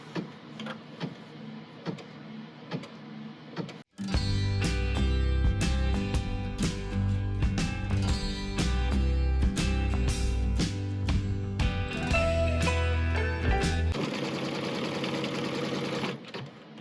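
An embroidery machine stitching background quilting on an in-the-hoop bag runs in a loud, rapid mechanical chatter of needle strokes for about ten seconds, then slows, with a quieter whirring hum before and after.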